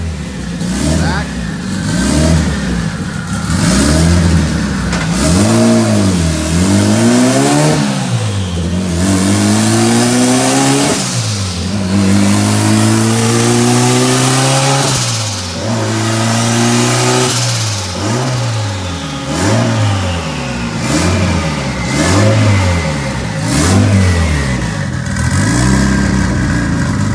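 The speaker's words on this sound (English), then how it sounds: "first pull with the new blow-off valve" The engine of an all-wheel-drive turbo Honda with a new blow-off valve roars on a dyno, rising and falling through repeated loud revving sweeps, sustained and close, with voices talking underneath.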